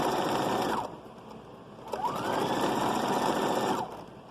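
A sewing machine stitching the seams of a small children's sun hat runs in two loud, steady bursts, briefly pausing between them, with a whirring mechanical buzz and no talking.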